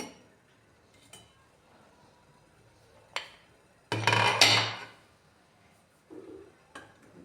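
A metal lid comes off a pot of boiled bitter gourds with a loud, half-second clatter in a quiet kitchen, followed by a few faint clinks.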